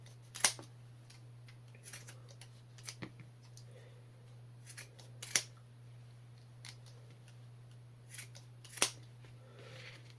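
Raptor trauma shears snip through material in a few sharp, separate clicks and cuts spread over several seconds, close and crisp against a steady background hum.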